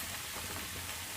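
Ridge gourd pieces frying in a pan, a steady soft sizzle that runs evenly through the moment with no talk over it.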